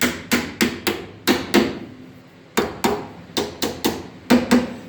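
A hammer tapping a drilled, flanged metal panel into place on a truck cab, a loud close run of sharp metallic strikes in two quick bursts of about six taps each, separated by a short pause.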